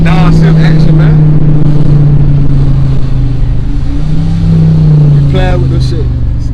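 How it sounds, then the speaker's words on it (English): A Dodge Charger R/T engine drones steadily from inside the car, its pitch dipping slightly near the end as if shifting down. Loud, close voices talk over it the whole time. "I hear that downshift action"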